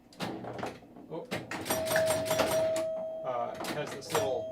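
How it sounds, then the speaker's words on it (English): Doorbell-style chimes from a pinball machine ring out during play, a sustained tone lasting a couple of seconds among mechanical clicks and knocks, with someone talking over them. "You'll hear chimes. It's got 3 sort of doorbell chimes."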